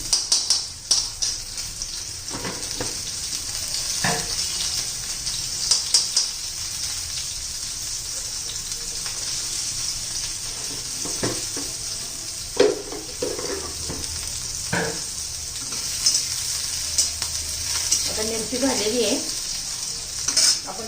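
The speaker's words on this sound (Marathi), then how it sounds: "छान अशी आपली भेंडी तेलामध्ये तुपामध्ये परतून घ्यायची" Okra stir-fried in oil and ghee gives a continuous close sizzle, with intermittent spatula scrapes and clatters against the pan throughout.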